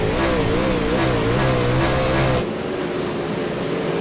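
Race cars roar around the turns of a dirt track in an UMP, 358 and Super Late Model series event, loud wavering engine drone close by before dropping abruptly to a steadier, more distant rumble.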